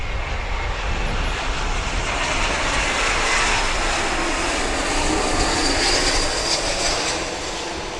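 Airplane at Grand Cayman airport, a loud, steady engine roar that stays close and constant throughout, with no voices.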